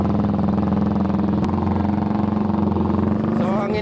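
A Suzuki Raider motorcycle with a carburetor engine runs at a steady, throbbing idle close by, with a brief sharp click partway through and someone talking over it.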